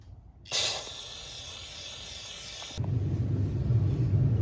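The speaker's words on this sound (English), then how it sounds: "I'll usually spray some carburetor cleaner in here" Aerosol carburetor cleaner sprays from a can in a steady, close hiss for about two seconds during a Honda Fourtrax 250 carburetor rebuild, then stops, leaving a low rumbling background with no talk.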